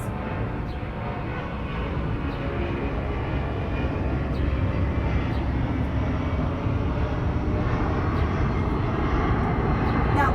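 Airplane passing overhead above a rooftop at sunrise, a steady loud engine roar that holds evenly throughout, with no talk.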